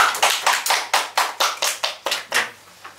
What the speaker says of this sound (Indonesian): Tepuk tangan lu.